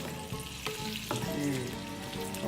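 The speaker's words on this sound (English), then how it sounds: "listen to that sizzle" Bacon sizzles in a frying pan, a loud, close, continuous crackling hiss, with a scrape or two as the strips are moved around, and no talking over it.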